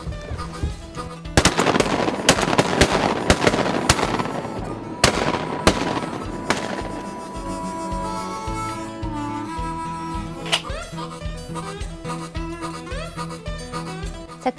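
Shotgun blasts ring out during a women's duck hunt at Beaver Dam: a rapid cluster of loud reports and their echoes, then one more shot a few seconds later, with voices faintly in the background.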